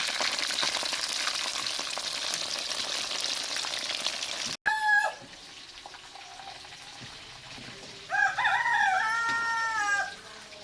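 Chicken 65 deep-frying in hot oil gives a dense, loud sizzle that cuts off abruptly partway. A quieter scene follows, with faint rooster-like crowing and clucking in the background.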